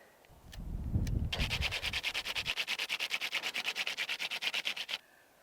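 Fast rhythmic rasping of a wooden hand drill spinning against a wooden fireboard, a steady run of rapid strokes after a brief low thumping start, close and fairly loud, outdoors in a forest.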